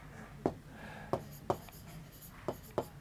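Chalk or marker strokes on a board during a Class 12 probability math lesson: sharp, separate taps and scratches in an uneven rhythm, close and fairly quiet, with no talk over them.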